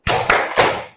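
Students in a classroom clap a rhythmic 'concentration' clap, three quick bursts of many hands together, close and fairly loud, ending abruptly and with no talking.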